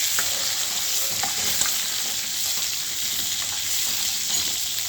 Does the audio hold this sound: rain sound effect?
no